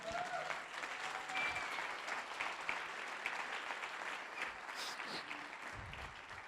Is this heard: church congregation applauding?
yes